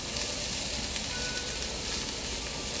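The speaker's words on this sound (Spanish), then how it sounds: "sofreír a que estén blanditos pero crocantes" Onions and peppers sautéing in a pan give off a steady, close sizzling hiss that holds level the whole time, with no voices.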